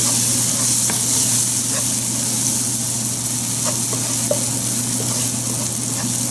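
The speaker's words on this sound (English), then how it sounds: "Fry it for a second." Spices frying in about two tablespoons of oil over medium heat for masala rice with vegetables, a steady, even sizzle and hiss that continues unbroken throughout with a few faint clinks.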